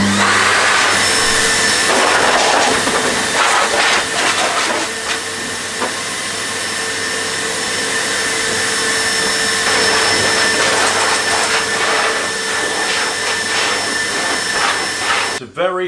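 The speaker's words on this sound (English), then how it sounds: "connecting the suction hose to this port underneath the accessory storage area turns it from a vacuum into a blower" An Evolution R15VAC wet and dry shop vac runs in blower mode with its suction hose attached to the rear port, producing a loud, steady whooshing roar up close that continues without a break and cuts off abruptly at the end.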